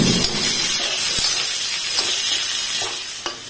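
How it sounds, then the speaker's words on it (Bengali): Green beans fry in a hot wok with a loud, continuous hissing sizzle, with occasional soft stirring knocks close by. "বিনগুলোকে দিয়ে দিলাম, এটাকে এবার ভালোভাবে ভেজে নেব।"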